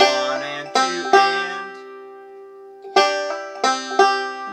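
A banjo plays alone in a bluegrass lesson on "Hard Times Come Again No More", close and clear. Two quick groups of plucked notes, including a hammer-on and a pinch, ring out with a short pause between them.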